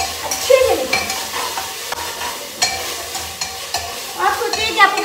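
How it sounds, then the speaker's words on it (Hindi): Mutton with ginger garlic paste fries and is stirred in a pot for haleem, a close sizzle broken by repeated scraping spoon strokes and occasional clatters against the metal. "जिंजर गार्लिक पेस्ट डाल के भी इसको मिक्स करना है."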